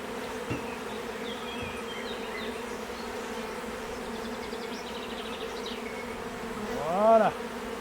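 Honeybee swarm buzzing steadily over four hive frames, a close, continuous drone with a louder bee passing near the end.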